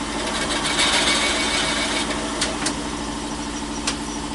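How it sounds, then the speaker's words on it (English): A valve guide machining machine works on a 390 Ford engine head in a machine shop, giving a steady mid-pitched motor hum with a few brief sharp clicks, running alone at a constant level. "Gives the machine time to settle on the center line of each valve guide."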